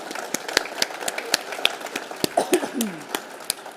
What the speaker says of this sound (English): So let's clap because Marie may well be watching online.